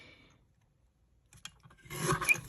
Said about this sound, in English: So I'm going to trim it